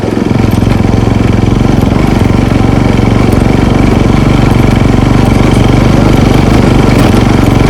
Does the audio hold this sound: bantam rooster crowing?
no